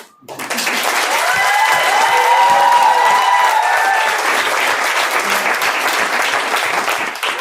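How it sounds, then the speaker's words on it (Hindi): Sustained audience applause at a training seminar, dense clapping from a large crowd filling the whole stretch at steady loudness, with a few cheers and voices mixed in. "ताली ढंका बजाते हैं।"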